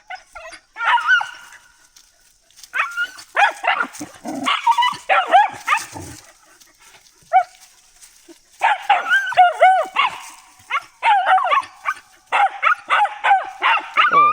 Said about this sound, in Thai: มัวน่ะก็มัวเห่า